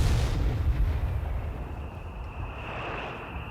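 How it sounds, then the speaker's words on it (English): Mortar fire in the Company of Heroes 3 video game opens with a heavy booming blast that rolls off into a low rumble and lingering battlefield ambience. "That's mortar fire."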